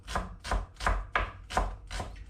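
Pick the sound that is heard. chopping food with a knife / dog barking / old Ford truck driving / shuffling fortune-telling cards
chopping food with a knife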